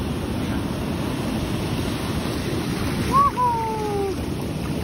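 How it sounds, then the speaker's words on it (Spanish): Sea waves washing up on a beach, a continuous surf roar with wind buffeting the microphone, and a brief tonal whistle-like sound rising and sliding near the end. "El agua sale, viene y se devuelve"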